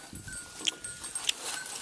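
Goats bleat while being fed fodder outdoors in a mountain village, with a couple of short, sharp calls standing out over steady rustling and background noise; no talk is heard.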